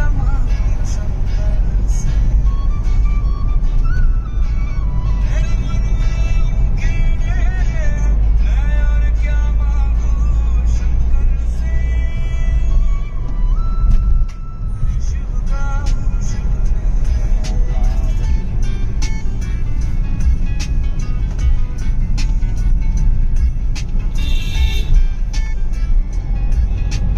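A car eases slowly along a rough, deeply potholed off-road track near Rishikesh, its engine and cabin rumble loud and constant throughout, with jolts and rattles scattered across the drive and voices talking over the noise.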